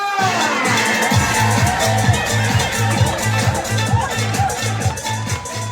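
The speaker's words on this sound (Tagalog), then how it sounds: "parinig naman po ng isang malakas na palakpakan na may kasamang hiyawan" Loud crowd at a night political rally in Quiapo cheering and shouting in a dense, continuous roar, with a steady pulsing beat from the sound system running beneath it throughout.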